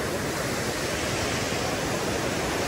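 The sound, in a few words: rushing water at Khandala dam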